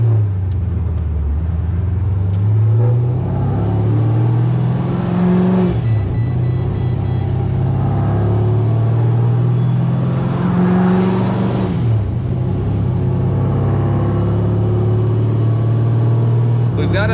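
A supercharged Pontiac GTO running on E85 drives along with a steady, loud engine drone and shifting pitch as it accelerates, heard continuously from inside the car.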